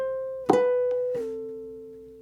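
A ukulele plays the second half of a bar from a song, all on string 2: a plucked note, a tapped note and a slide down, leaving a sustained tone that rings out alone and close.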